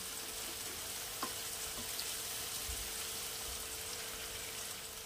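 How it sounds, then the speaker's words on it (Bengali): Sliced onions fry in oil for beresta, giving a faint, steady sizzle throughout with one small tap partway through. "পেঁয়াজটা ভাজা হয়ে গেছে"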